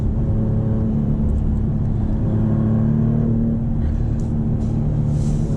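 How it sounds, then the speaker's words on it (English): A 2025 Maserati GranCabrio Trofeo accelerates hard toward 60 mph, its engine a loud, steady low rumble with rising harmonic tones heard from inside the car, no voices over it. "we'll accelerate in a second. Ready? And there we go to 60 miles an hour."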